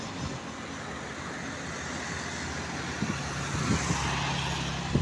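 Road traffic on a high road near Sodepur, a steady wash of passing cars and trucks with a couple of louder vehicles rising toward the end, no voices.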